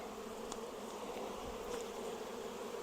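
Honeybees buzzing around an open hive box while a swarm is split into colonies, a steady, dense hum at moderate volume with faint individual passes drifting by.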